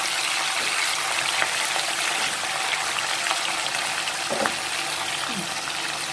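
Fried shorputi fish and green chillies hitting a hot oil pan give a continuous close sizzle with soft stirring clinks, steady throughout and with no talk.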